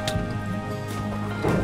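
Steady rainfall in the Minecraft video game, a continuous soft patter of drops spread evenly across the clip, with brief louder patches and faint game sounds.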